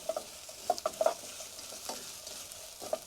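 Meat browning for spaghetti bolognese in a pan on a camper van stove, a quiet steady sizzle with light crackles and occasional stirring scrapes, close by and without talk.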